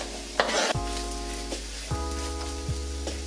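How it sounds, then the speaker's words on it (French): Onions sizzle gently in hot olive oil in a pan for a vegan bolognese, a soft steady crackle with occasional clinks and stirring scrapes, close and fairly quiet with no talking. "Une fois l'huile d'olive bien chaude, on commence à mettre les oignons pour les faire blondir doucement"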